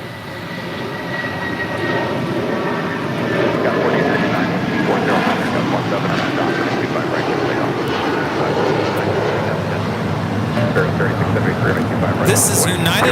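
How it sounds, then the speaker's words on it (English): Strong takeoff roar from a United Airlines Boeing 757-300 departing LAX for Chicago O'Hare, building early and staying loud and steady, with speech heard over the engines. "This is United Airlines 1400 taking off to Chicago O'Hare on a 757-300"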